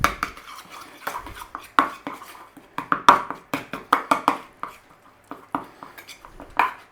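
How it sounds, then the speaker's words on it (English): Garlic butter and a pinch of Italian herbs being mixed in a bowl, heard as a string of sharp clinks and scrapes of utensil against dish in an irregular rhythm, fairly close and alone. "We're going to give that a mix up."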